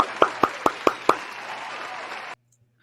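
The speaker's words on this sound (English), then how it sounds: "Let's get some applause in here." Five sharp, evenly spaced claps ring out in a row over a faint steady hum, followed by a short stretch of soft noise before abrupt silence.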